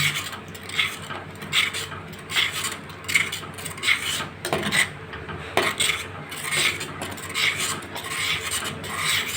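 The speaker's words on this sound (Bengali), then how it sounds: "এবার একটু একটু করে এই আমের পাল্পটা সুজির মধ্যে দিয়ে দেবো এটাকে এইভাবে এবার নাড়তে হবে" Mango pulp is stirred into semolina in a pan for a mango sooji sandesh, with a spoon scraping and knocking continuously in a steady back-and-forth rhythm, close and fairly loud.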